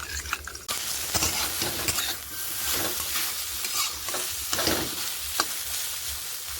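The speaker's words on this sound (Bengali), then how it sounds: "সামান্য পরিমাণে জল দেবো, দিয়ে সমস্ত মশলাটাকে ভালোভাবে জলের সঙ্গে মিশিয়ে নেব।" A spoon scrapes and stirs a spice paste mixed with a little water in a pan, wet and sizzling, with steady frying crackle and irregular scraping strokes close by.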